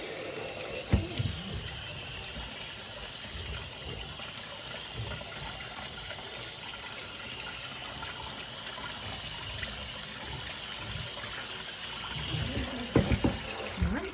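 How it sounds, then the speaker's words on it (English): Soaking water from dried beans pours through a strainer into a kitchen sink, a steady close splashing and trickling stream with a few brief clunks near the start and end. "I'm gonna strain out this water that these beans soaked in all night"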